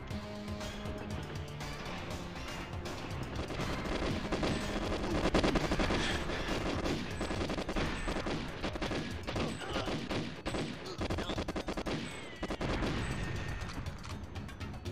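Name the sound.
gunfire in the video game GoldenEye 64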